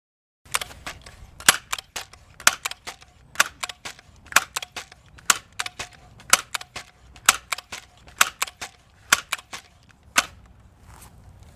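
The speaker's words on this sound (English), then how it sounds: "So here's what it's like to pump this." A Crosman Legacy 1000 pump air rifle being pumped repeatedly, producing rapid sharp clacks and ratcheting clicks in an irregular rhythm, close and loud with no talking.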